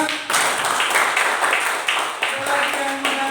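Students in a classroom applaud a classmate's answer, a steady ripple of many hands clapping at close range, with voices mixed in beneath the clapping.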